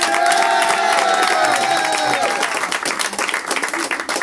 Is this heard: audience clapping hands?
yes